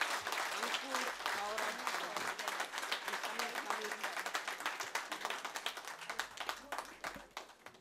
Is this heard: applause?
yes